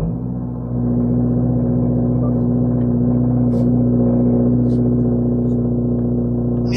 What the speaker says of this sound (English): you guys are going to hear a cold start and what it sounds like inside of the car